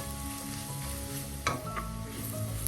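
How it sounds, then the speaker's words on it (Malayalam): Ground coconut paste and shallots for a radish thoran are stirred in a pan over a low flame, giving a steady soft sizzle with a couple of sharper scraping knocks from the spoon and no voices. "അത് ചിലപ്പോൾ ലോ ഫ്ലെയിമിൽ തന്നെ ഒന്ന് ഇളക്കാം."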